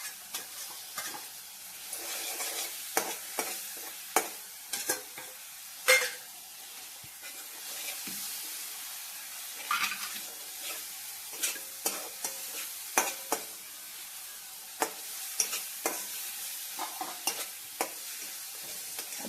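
Prawns for a masala prawn rice dish sizzle steadily in a pan, and repeated sharp scrapes and clacks of stirring come close and loud, with no talk.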